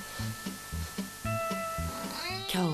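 A cat meows insistently, ending in a loud, rising, drawn-out meow, with a steady rhythmic low thumping in the background and no talking.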